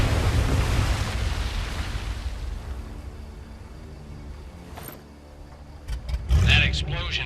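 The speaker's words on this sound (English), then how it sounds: "That explosion got the attention of all the German patrols in the area." An explosion in the WWII shooter Medal of Honor: Above and Beyond opens with a heavy, loud rumble that slowly fades into low ambience. A voice and other game sounds follow toward the end.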